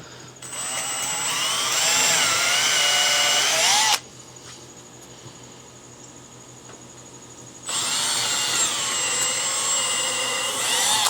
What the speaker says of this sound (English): This is all particle board, so it's pretty easy stuff to drill through.